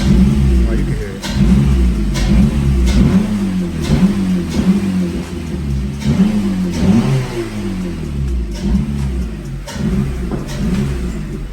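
An 8th-generation Honda Accord with its muffler deleted, running a 4-inch intake pipe, revs loudly in repeated throaty bursts over a rough, droning idle, heard up close.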